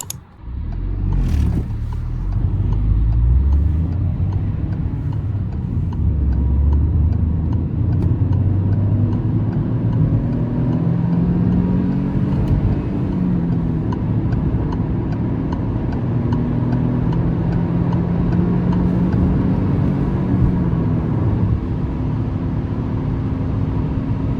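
A 2015 Peugeot 208 1.2 PureTech with a manual gearbox accelerates hard from rest through 0-100, its engine note rising steadily with gear-change dips, heard loud from inside the cabin.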